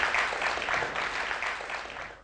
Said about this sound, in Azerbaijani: Alqışlarla yola sardıq Sevinç xanımı.